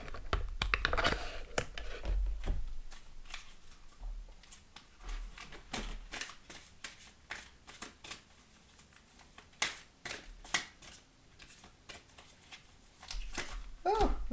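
Oracle cards being shuffled by hand, a run of crisp riffling and flicking bursts with brief pauses, fairly close and moderately loud, with occasional soft speech-like sounds between.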